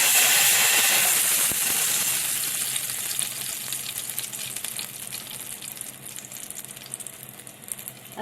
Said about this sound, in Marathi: आता मी हिंग टाकते,